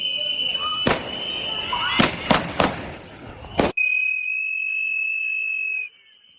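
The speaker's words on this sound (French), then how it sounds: "un coup de feu retentit, suivi d'au moins 9 autres tirs" Several sharp gunshots crack in quick succession during a confrontation between an ICE officer and a man in Minneapolis, loud and close, ringing over a steady high whine that persists after the shots stop.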